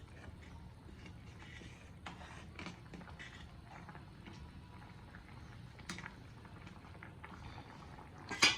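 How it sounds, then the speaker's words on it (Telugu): Food simmers in a cooking pot with a steady, soft bubbling and faint crackle close by, broken by a few small clinks and a sharper knock near the end. "ఉడుకుతుందిలే."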